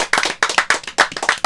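Studio audience clapping on a podcast show, a burst of close, sharp handclaps in an uneven rhythm, loud and alone without talk.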